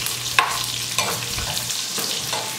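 Tocino bacon frying in a pot after being turned until crispy, a steady close sizzle broken by a few sharp scraping stirs, with no talk.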